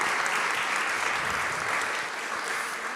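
Steady, dense applause from an audience at a German-Brazilian EdTech hackathon final, sustained and even for the whole stretch with no voices breaking through.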